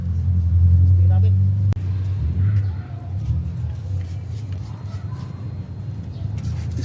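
A mechanic test-runs an engine, which rumbles loudly and steadily up close, a heavy low drone that eases after a sharp knock, then keeps running under faint background voices.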